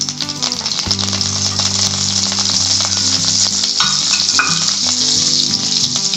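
A spoonful each of oil and butter heat in a kadhai, sizzling loudly and steadily up close, with light clinks and rattles scattered through and a constant low hum underneath; nobody speaks.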